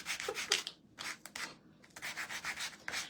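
Repeated rhythmic rasping strokes of sandpaper rubbing on wood, close and clear, in short bursts with brief pauses between.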